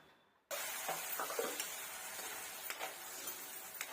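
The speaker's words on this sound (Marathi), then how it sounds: "आता ते वाटण केलं मग अशी ते आपण तेलामध्ये घालूया आणि परतून घेऊया" Ground spice paste sautéed in hot oil with cumin seeds, for a spicy spring onion curry: after a brief quiet start, a steady close sizzling hiss sets in, broken by occasional scraping stirs.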